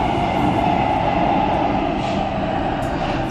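Siemens Inspiro metro train on Warsaw Metro line M2 heard from inside while running, a loud continuous rumble with rolling wheel noise and a steady hum, no talking.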